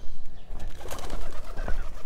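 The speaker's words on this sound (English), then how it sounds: "And the doves, the pigeons." Pigeons and doves cooing at Zion Gate in Jerusalem, a continuous low murmur of calls amid busy outdoor ambience.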